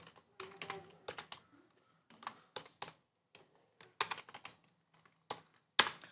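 Close-up typing on a computer keyboard while creating a Java class in IntelliJ IDEA: quick clusters of crisp keystroke clicks separated by short pauses, ending with one heavier key press, and no talking.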